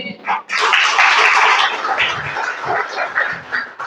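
A church congregation breaks into loud, dense applause that swells quickly and then holds as a broad, rushing wash of clapping for several seconds.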